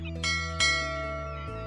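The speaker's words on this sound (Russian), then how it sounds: "слушать крики чаек и звон корабельных рынд" A ship's bell rings in a harbour where warships moor, giving two or three clear strikes whose bright metallic tone hangs and rings on between them, with no voices.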